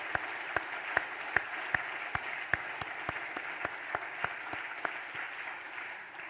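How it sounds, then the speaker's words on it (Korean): A church congregation at a Sunday worship service applauds the Zion choir, a steady wash of clapping with sharp individual claps standing out, moderately distant and even throughout. "우리 찬양으로 헌신한 시온 찬양대를 위해서 크게 박수 한번 하시겠습니다"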